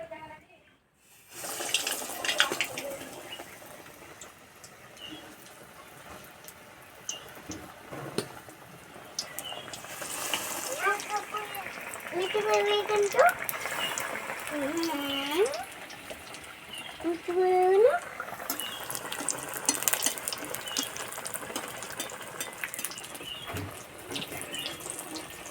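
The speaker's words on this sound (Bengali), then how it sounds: "তেলটা প্রথমে ভালো করে গরম করে নিয়েছি, দিয়ে আঁচটা কমিয়ে দিয়েছি। এবার ভেজে নেব।" Battered cauliflower chops frying in hot oil over lowered heat give a steady, close sizzling hiss that runs almost the whole time, swelling slightly midway, with a faint voice briefly audible.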